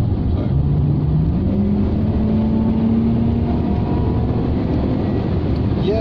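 A Rover 45 with a V6 engine runs after a service, a steady close engine drone with a slowly rising tone as revs climb, continuous and loud without talk.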